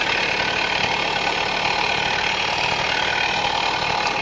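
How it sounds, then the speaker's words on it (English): A Tomos Bullet A3 moped engine runs continuously, a loud, buzzing two-stroke drone close by with a steady, even tone and no voices. "cannot believe I got the engine kicked. Well, the engine worked. It sounded like it wanted to work"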